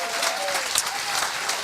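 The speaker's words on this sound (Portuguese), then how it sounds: "Já que é para aplaudir," A church congregation applauds loudly during a worship service, a dense, steady wash of many hands clapping for under two seconds with faint voices mixed in.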